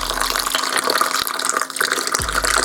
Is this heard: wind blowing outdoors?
no